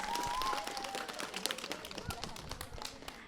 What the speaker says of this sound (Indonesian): tepuk tangan dulu untuk temannya yang sudah tampil